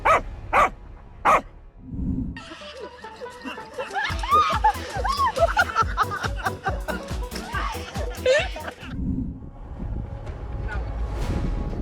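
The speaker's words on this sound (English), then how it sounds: "this doggo's got more guts than they could have imagined" A dog barks sharply at street thugs carrying weapons, a few loud close barks at first, then a long stretch of mixed voices, laughter and scuffling noise with more barking breaking through.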